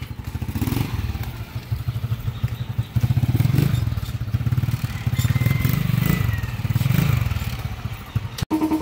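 Motorcycle engine idling with a rattling timing gear, a steady close clatter and ticking throughout, with brief swells of revving and a sharp knock near the end.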